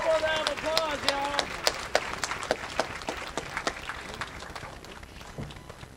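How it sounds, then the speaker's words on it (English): An audience at an awards ceremony claps in a lively burst of applause with sharp, distinct hand claps, fading gradually over several seconds while a voice briefly calls out at the start. "One more round of applause, y'all."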